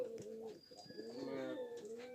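Pigeons on a pigeon farm cooing close by, soft overlapping throaty coos in a low, rolling rhythm, with a faint chirp above them.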